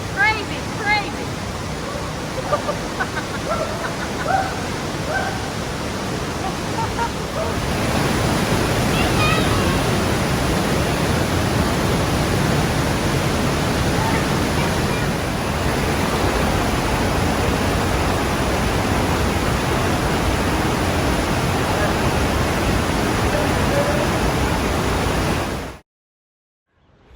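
A waterfall roars in a steady, dense broadband wash that stays loud and close for nearly the whole stretch before cutting off abruptly near the end.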